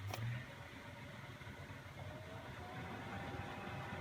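A CaraOne 390QD caravan heater fan motor runs at high speed, producing a steady, faint, even hum with a slight whine and no variation throughout.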